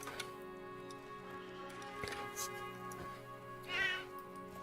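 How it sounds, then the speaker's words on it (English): A pet cat gives a meow after waking up, a brief mid-pitched cry standing out near the end over a steady bed of ticking and tonal game-music background, fairly faint. "I don't know if y'all can hear the cat, but she always meows like that when she wakes up"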